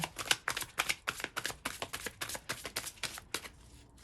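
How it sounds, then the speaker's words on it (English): Tarot cards shuffled by hand in a quick run of crisp riffling bursts, close and fairly quiet, with a slightly uneven rhythm before they stop. "That was kind of a wonky shuffle."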